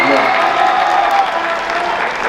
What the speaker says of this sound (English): You guys hold yourselves a round of applause for that.